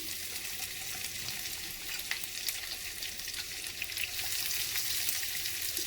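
Onions frying in hot oil in a pan, giving a steady, even hiss of moderate loudness that carries unbroken, with faint stirring texture underneath.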